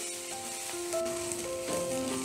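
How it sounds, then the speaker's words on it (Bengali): Ginger paste frying with gram flour and chopped green chilli in a pan gives a steady close sizzle, with some stirring scrapes and no voices. "আদাটা ভাজা হয়ে গেছে,"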